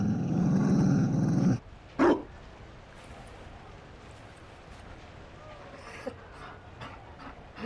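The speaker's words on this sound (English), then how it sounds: "You found a dog?" A Mabari war dog in Dragon Age: Inquisition gives a sustained low growl with a bark, loud and close, followed by a brief yelp and then quiet ambience with a few faint ticks.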